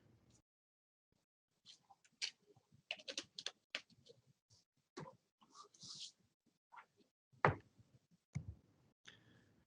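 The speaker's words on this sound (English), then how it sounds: "We got somebody typing." Someone types on a computer keyboard, irregular bursts of soft key clicks with pauses between, fairly quiet and isolated with no talk over it.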